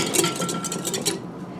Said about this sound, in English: You'll whisk up your egg yolks, add half a cup of milk, whisk that together